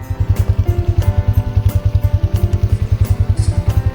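A snow bike engine chugs along in Tangmarg, Kashmir, with a loud, steady rapid thumping pulse close by, running continuously throughout without any talk.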